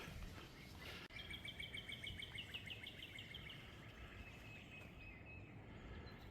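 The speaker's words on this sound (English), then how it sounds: "Listen to all the birds chirp." Small birds chirp in quick repeated trills, fairly faint and somewhat distant, over a steady outdoor background hiss, along a dogwood driving trail in Knoxville.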